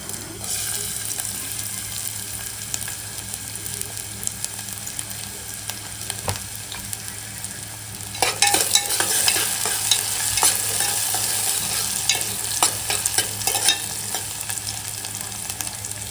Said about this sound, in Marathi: मस्त कांद्याची फोडणी देऊची आहे ना ओनली कांदो